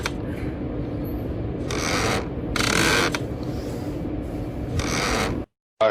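A new sofa creaking and squeaking under shifting weight, a close, continuous grinding rub with several louder squealing bursts, ending in a brief silence.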